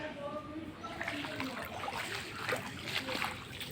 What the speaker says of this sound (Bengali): পানির ছদ দেখুন কত স্পিডে যাচ্ছে পানি